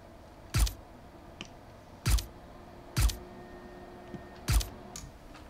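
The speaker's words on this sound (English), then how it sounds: "I also got the suppressed pistol sound." Fortnite suppressed pistol sound sequenced in FL Studio, four soft, muffled thuds with a short snap, spaced unevenly, fairly quiet and alone.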